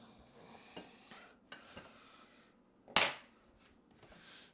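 A spoon clinks and scrapes as a meal is stirred in a container in a home kitchen. Light knocks come at a quiet, uneven pace, and one sharper clatter stands out partway through.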